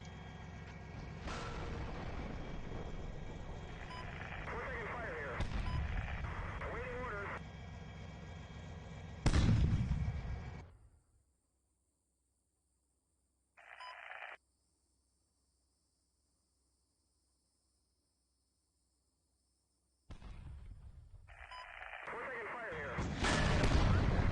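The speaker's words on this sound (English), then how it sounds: "watch out for artillery on the west hill. That's coming down now." Artillery shells landing in the Steel Beasts Pro tank simulator game, heavy rumbling booms over continuous battlefield noise, then a stretch of near silence broken by one short burst before the din resumes.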